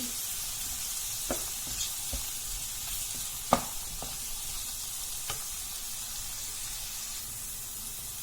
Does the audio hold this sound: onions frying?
yes